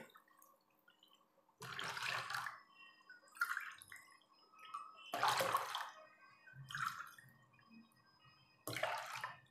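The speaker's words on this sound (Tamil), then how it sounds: "1/2 கப் ஜூஸுக்கு 3 கப் தேங்காய் தண்ணி." Coconut water is poured into grape juice in several short bursts, each a close, soft splashing trickle separated by quiet pauses.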